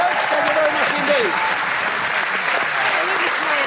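A studio audience applauds escapologists on a game show, a dense, sustained round of clapping heard at full volume with a host speaking over it.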